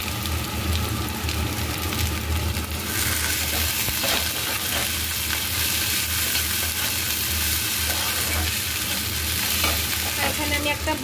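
Sliced onions hiss and sizzle steadily in hot oil in a pan with nigella seeds and a green chili, a constant close frying crackle with occasional stirring scrapes.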